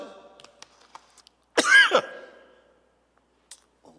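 A single short throaty cough, sharp and close, bursts out of near silence, followed by a few faint rustles.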